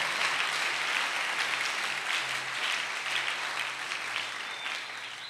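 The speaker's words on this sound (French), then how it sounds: "Acclame Dieu, acclame Dieu." Dense, sustained applause from a church congregation acclaiming the Lord, a steady roar of clapping that holds at an even, loud level throughout.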